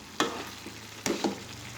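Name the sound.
stirring fried potatoes into sizzling beef stew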